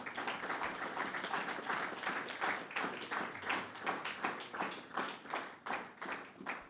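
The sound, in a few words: congregation round of applause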